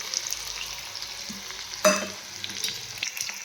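Onion and garlic fry with mustard seeds and cumin in hot oil, giving a steady close sizzle with a sharp crackle and spoon clatter partway through. The frying is heard alone, with no talk.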